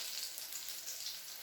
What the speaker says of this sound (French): Il faut bien les préparer dans de l'huile, donc il faut suffisamment pour que ça puisse bien dorer